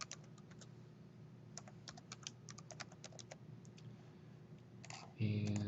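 Typing on a computer keyboard while entering an email username and password on a login page: scattered quick key clicks in short bursts, fairly faint against a steady low hum, before a voice starts at the very end.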